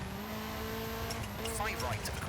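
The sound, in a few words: rally car handbrake slide in video game EA Sports WRC 2024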